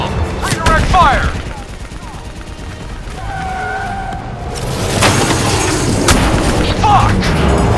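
Gunfire and booming explosions from the Call of Duty Black Ops 3 campaign, a dense battle din with bursts of fire and blasts throughout, under shouted in-game voices.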